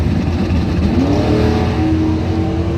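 Drag race cars, an '81 Camaro against a '67 Camaro, roar loudly and continuously with a dense, deep engine drone and rising revs, heard up close at a bracket race event.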